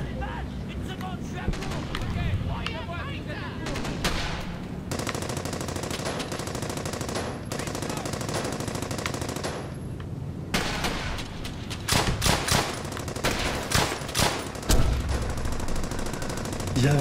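Sustained suppressive machine gun fire in Brothers in Arms: Hell's Highway, long loud continuous bursts with brief pauses and heavier shots near the end, while someone talks over it.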